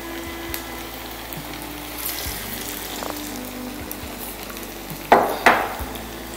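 Chicken pieces fry in a pan with a low, steady sizzle, then two sharp louder spatters near the end as pieces are turned or shifted.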